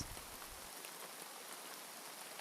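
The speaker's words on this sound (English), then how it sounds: "the sound of the rain is super chill for my sleep situation" Steady rain pattering on a surface, a soft continuous hiss with scattered drops, fairly quiet and unbroken with no voices.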